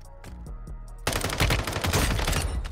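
Gunfire in the mobile shooter Warzone Mobile. A few sparse shots come first, then a sudden dense burst of rapid automatic fire that stays loud to the end.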